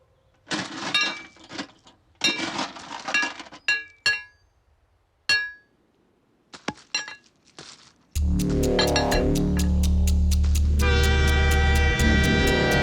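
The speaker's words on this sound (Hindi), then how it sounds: "ट्रेन आ रही है" A train approaching on railway tracks arrives after several seconds of scattered clinks and quiet, then a loud sustained horn blast and heavy rumbling wheels take over and continue to the end, with no talking.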